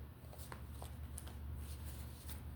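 Tarot cards are shuffled close by, giving soft, faint riffling and scattered papery taps over a steady low background hum, with no speech.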